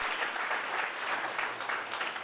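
A congregation applauds during a united Sunday church service, a dense, even wash of clapping sustained for the whole moment with no clear speech.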